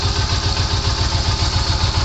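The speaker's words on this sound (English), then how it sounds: "Got my motorcycle running" A Yamaha V-Star 250 motorcycle engine runs steadily in a garage after two weeks unused, with a loud, even, throbbing idle and light mechanical clatter throughout, and no voices.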